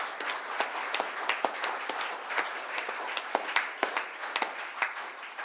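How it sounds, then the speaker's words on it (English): Audience applause at a book event in Arbroath, Angus: steady, dense clapping from a room full of people, with sharp individual claps standing out throughout, continuous and fairly close. "Even more popular than the speakers by the sound of that applause."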